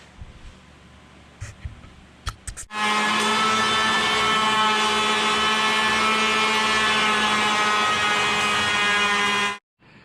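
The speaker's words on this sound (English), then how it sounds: "we're going to use the DeWalt hand planer" A DeWalt electric hand planer runs steadily on door boards, a loud, sustained whine with a constant pitch that holds for about seven seconds after a few brief handling knocks, then cuts off abruptly.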